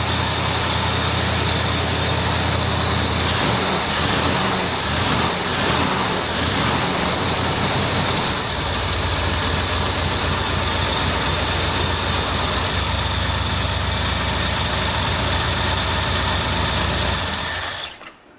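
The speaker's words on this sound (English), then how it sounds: "There's a good amount of valve noise under this valve cover" A plow truck engine idles steadily and loudly up close, with a fast ticking valve clatter running through it, then cuts off at the end.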